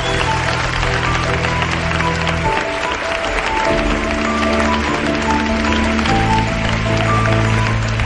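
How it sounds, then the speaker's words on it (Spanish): A theatre audience applauds an actor at a stage production of The Exorcist, with steady broadband clapping running throughout over sustained musical tones. "También un fuerte aplauso,"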